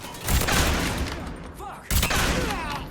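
Gunfire in the Mafia video game, a dense burst of shots filling the clip, cutting out briefly and then resuming loudly, with a voice heard faintly amid the shooting.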